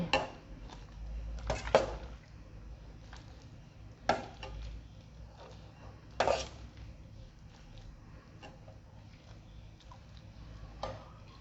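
A ladle clinks and scrapes against a pot and serving dish as Thai clear egg soup with pork is served, with a few distinct metallic knocks spaced seconds apart over a quiet kitchen background.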